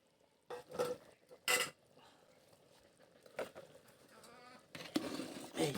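Potatoes and meat being stirred in a cooking pot for a traditional alu ghati dish, a few distinct scraping and clattering strokes close by, separated by quieter pauses and light sizzling.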